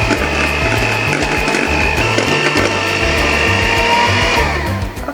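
An electric mixer whisks coffee mocha cream in a bowl with a loud, steady mechanical whir and a rattling beater chatter, running without a break for several seconds before it winds down.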